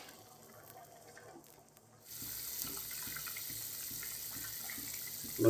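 Water pours steadily into a pot for a thin rohu fish and potato curry, starting suddenly after two seconds of quiet kitchen background and running as a close, even gush.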